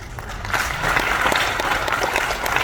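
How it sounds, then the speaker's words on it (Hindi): An audience at a Hindi kavi sammelan comedy poetry gathering in NTPC Unchahar breaks into a dense, steady round of applause that holds loud and even throughout. "आपकी तालियां मिल गई, बहुत बहुत धन्यवाद"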